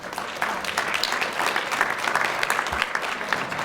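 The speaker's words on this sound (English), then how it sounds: "y'all are gonna have to keep clapping" Audience clapping at a JROTC superintendent's awards breakfast, a brief, continuous burst of dense applause from a roomful of people, fairly close and loud throughout.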